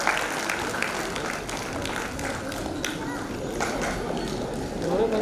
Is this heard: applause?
yes